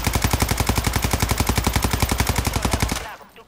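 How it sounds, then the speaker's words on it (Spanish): Sustained full-auto burst from the Kronen Squall rifle in Warzone 2.0, a rapid, even rhythm of roughly forty loud shots over three seconds, then cutting off abruptly into a faint tail. "aquí vamos a probar el retroceso normal de la Cronen. Esto sería sin controlar el retroceso. Vamos a apuntar y vamos a disparar."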